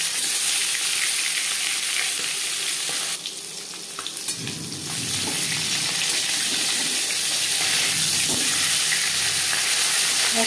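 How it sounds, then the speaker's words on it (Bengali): Fish pieces and a fish head frying in hot mustard oil, a loud, dense, close crackling sizzle that runs the whole time, briefly dipping and shifting as the pieces settle; no talking. "সবার প্রথমে মাছ ভেজে নেব।"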